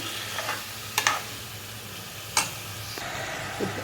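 Prawns frying with green chillies in a pan, a continuous close sizzle broken by a few sharp clicks and scrapes of a spoon stirring against the metal.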